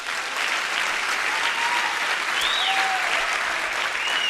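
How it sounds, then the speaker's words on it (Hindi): Steady, dense applause from an audience at a network marketing training session, loud and continuous throughout with a few faint whistles rising over the clapping. "चलो खुश होकर तालियां बजाओ थोड़ा"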